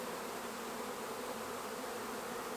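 Feral honeybees buzz as a dense, steady swarm hum during extraction from a hollow, close and continuous with no pauses or voices.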